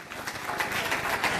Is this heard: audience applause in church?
yes